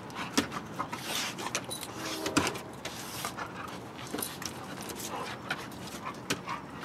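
Two dogs scuffle and bite at each other indoors, with short growls, whimpers, panting and yips in irregular bursts, close by, and a person speaking faintly at moments.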